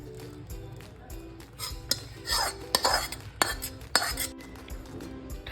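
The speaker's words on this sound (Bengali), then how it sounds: "সাবুদানাটাকে এবার আমি ছেঁকে নেব।" Boiled sago pearls being strained in a kitchen, with clinks and scrapes of a metal strainer and pot, a couple of brief watery pours, and a steady low hum underneath.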